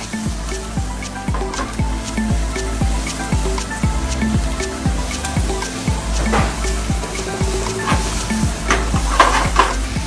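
Rice frying in a home kitchen pan, with a continuous sizzle and regular rhythmic scrapes of a utensil stirring it, close and steady throughout, without any voices.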